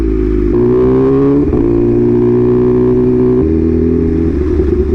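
A BMW M1000RR motorcycle engine drones loud and steady at close range on a Mexican highway, its pitch stepping up and down with gear changes, mixed with wind rush.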